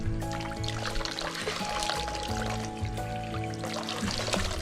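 Water poured and splashing over hands during washing at the Banaue rice terraces in the Philippines, a continuous close trickle and patter set against a low droning musical background.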